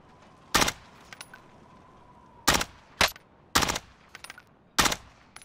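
Gunfire in a Call of Duty match: five or so sharp, separated shots ring out at uneven intervals, fairly faint against a quiet background.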